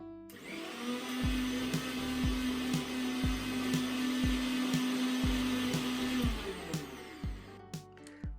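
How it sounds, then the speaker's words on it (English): A Bajaj mixer grinder grinds roasted moong dal with a loud, steady motor whine and rhythmic thumping pulses from the jar. The motor winds down near the end, leaving a few clunks. "when I grind the dal in Bajaj mixer grinder"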